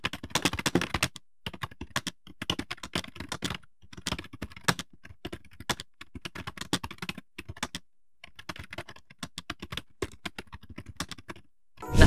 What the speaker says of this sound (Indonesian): kalian yang pengen dengar typing test suaranya